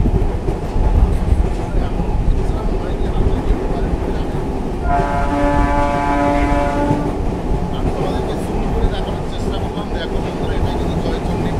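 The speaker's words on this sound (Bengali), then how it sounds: "আমাদের ট্রেন কার্ভ লাইনে আসছে আদ্রা জংশনের দিকে" A train runs along a curved line approaching Adra Junction, its steady loud rumble and rolling wheel noise carrying on throughout, with a long sustained horn sounding midway for about two seconds.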